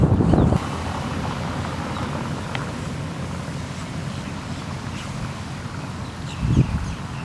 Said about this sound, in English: it's kind of a windy day